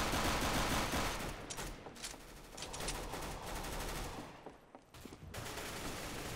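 Dense, rapid gunfire in Counter-Strike: Global Offensive crackles continuously with bursts and scattered shots, a busy shooting mix with no voices.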